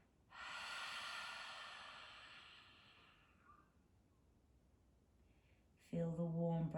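A long, airy exhale through the mouth during guided meditation, loud at first then tapering off over a few seconds, followed by quiet and a calm voice starting.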